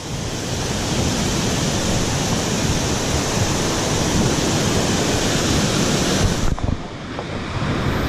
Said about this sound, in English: So we're right at the top of the big waterfall.